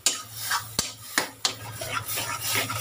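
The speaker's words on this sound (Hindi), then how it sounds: "बस इसको अच्छे से मिक्स कर लेते हैं, फ्राई करते हैं" Masala for baingan bharta is stirred and fried in a pan, with a spoon scraping and clinking against the metal every half second or so over a low, steady sizzle.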